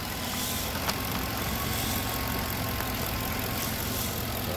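A D8 engine runs smoothly and steadily, a dense, even drone with no misses or knocking, loud and continuous throughout with no talk.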